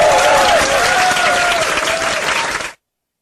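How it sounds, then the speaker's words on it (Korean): Loud, dense applause from a gathered group, sustained and close before cutting off abruptly, with a faint tonal whine or voice line running underneath. "박수 주세요."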